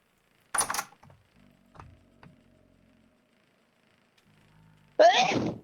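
Two sharp human sneezes stand out, one near the start and another toward the end, close and loud, separated by faint clicks and a quiet hum.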